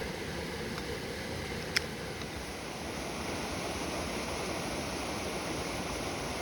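Steady rushing of river water with a soft breeze in the trees, a constant wash of sound and one brief faint click near the start.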